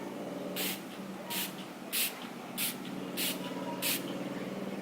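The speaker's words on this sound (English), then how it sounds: "I'm gonna spray this." Six short, even hissing bursts of a spray bottle, spaced roughly evenly apart over a low constant background hum.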